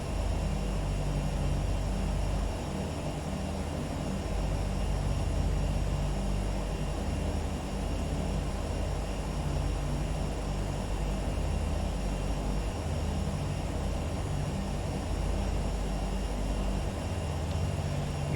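A Realair Beechcraft Duke BE60 turbine twin in a flight simulator, climbing out after takeoff from a wet runway, its engines a steady, loud, unbroken drone that fills the whole stretch with no speech.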